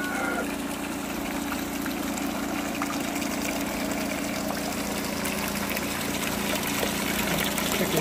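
Water rushing steadily through the trays of a gold turbine sluice, a dense, continuous splashing and trickling wash that stays close and even throughout.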